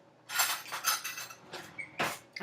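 A metal spoon clinking and scraping against a dish while scooping canned tuna, several light close taps and scrapes in a quiet kitchen.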